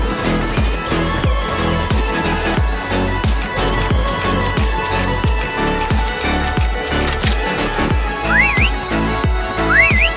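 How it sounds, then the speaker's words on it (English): Short rising whistle chirps from the Call of Duty Mobile prop hunt mode appear twice near the end, layered over loud rhythmic background music with a steady pulsing beat. "Next whistle in 10 seconds."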